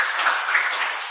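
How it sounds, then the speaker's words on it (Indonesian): Steady applause from a church fellowship congregation, dense and continuous with no individual claps standing out, fairly loud and without voices on top. "Sekali lagi tepuk tangan untuk Tuhan Yesus."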